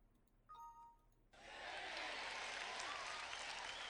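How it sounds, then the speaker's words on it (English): Simulated passengers in a flight-sim cabin break into applause after a 737-700 landing, a chime sounding first, then a sudden wall of steady crowd clapping cutting in and continuing, faint overall. "they're clapping instead of booing us"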